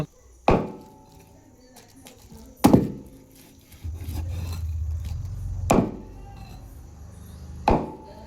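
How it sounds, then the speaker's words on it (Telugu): Meat chopped at a market stall: four sharp, heavy thwacks of a blade striking a wooden block, spaced a couple of seconds apart, close and loud, with low background rumble between strikes. "చూడండి ఎంత మంచి కూర ఎట్లా కోస్తున్నాడో"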